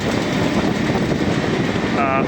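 A passenger train runs between Amghata and Krishnanagar, heard from on board as a steady, loud broadband rumble and rattle with continuous mechanical hum, without a break, and a brief tonal squeal near the end.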